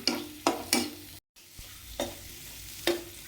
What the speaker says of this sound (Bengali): এরপরে এতে ড্রাই নারকেল দিয়ে দিচ্ছি, আর একটু ভালো করে মশলাটা নেড়ে নেব।